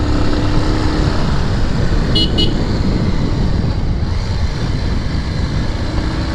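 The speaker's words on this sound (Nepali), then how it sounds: "अब आवाज अर्कै आउँछ है बाइकको।" Motorbike engine labouring up a steep hill in low gear on a mountain road, a loud continuous rumble with heavy wind buffeting throughout and a brief horn toot partway through.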